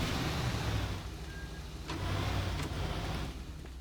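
A car engine in the video game Teardown rumbles steadily as the vehicle drives off, a continuous mid-loud motor drone with a slight swell partway through.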